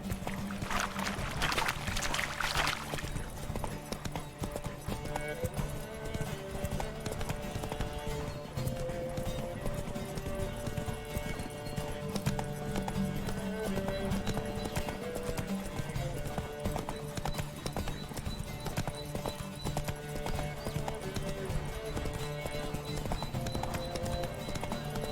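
Roach, Geralt's horse in The Witcher 3, gallops at a steady pace with a rapid, continuous clip-clop of hooves over game ambience. A short splashy burst comes near the start.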